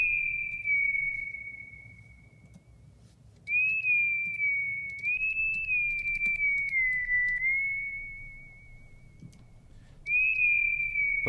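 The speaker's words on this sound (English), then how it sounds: "you still get the whistling kind of effect." A synthesizer with LFO modulation plays a thin, whistle-like tone in long sustained notes that waver slightly in pitch, with short gaps between them over a low hum.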